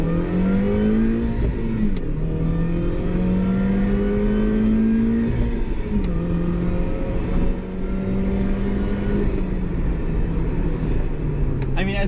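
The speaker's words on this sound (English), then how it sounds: "the one really nice part about this engine, it's the sound, and this is a really nice sounding 4-cylinder." A Mini R52 with a supercharged four-cylinder engine revs while driving, heard from inside the cabin as a steady, loud engine note that climbs and settles through several gear changes, with some talking over it.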